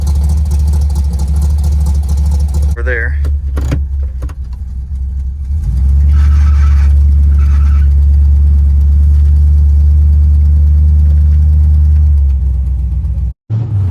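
An old truck with no power steering has its engine running steadily and fairly loud close by, with a brief voice over the rumble.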